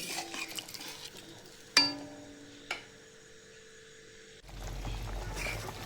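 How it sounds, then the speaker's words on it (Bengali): A spoon stirs a pot of fish curry with taro as it boils, giving two clear clinks against the metal early on, then a steady, soft bubbling and churning near the end. "তরকারিটা কিন্তু ফোট চলে এসেছে, একটু নেড়ে চেড়ে নিচ্ছি মাঝে মাঝে"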